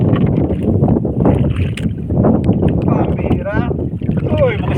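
Wind gusts around a small boat out on the water, roaring and buffeting the microphone in a loud, uneven rush while people talk over it.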